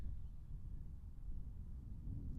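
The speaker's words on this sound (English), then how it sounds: "Can y'all hear the wind?" Steady low rumbling wind buffeting the microphone, continuous and fairly loud throughout with no voices.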